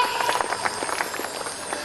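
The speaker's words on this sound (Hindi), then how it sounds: "एक बार जोरदार तालियां प्रतीक के लिए।" Loud applause from the audience at a school annual function's poetry recital, greeting a poem reciter; dense, steady clapping fills the hall and then tapers off slightly.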